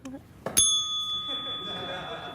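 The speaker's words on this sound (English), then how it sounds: "That's an improv game, isn't it? Where you press the bell and then you have to go..." A single bright bell ding rings out on a late-night talk show set, pressed for an improv game, its tone ringing on and fading over studio room noise.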